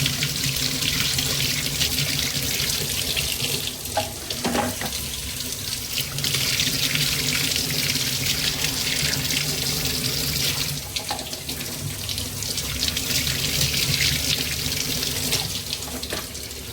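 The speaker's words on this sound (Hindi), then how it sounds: "अंडे धो के फ्रीज में रखना। तो बस मैं इन्हें धो लेती हूँ" Eggs are washed under a running kitchen tap, the water pouring in a steady close rush with occasional brief splashes and clatters as the eggs are handled.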